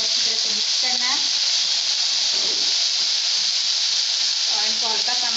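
Chicken and half-boiled peas fry in cooking oil for a ring samosa filling, giving a steady, loud sizzling hiss with a faint voice-like murmur under it at moments.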